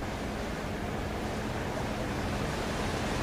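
Loud, rushing floodwater surges across the MacArthur Highway in Hermosa, Bataan, after heavy overnight rain, a steady broadband roar holding constant throughout with no voices.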